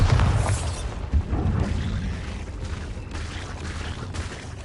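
A Bombarda blasting spell goes off in Hogwarts Legacy, a deep rumbling boom with a sharp crack near the start, followed by a lingering low roar that slowly fades.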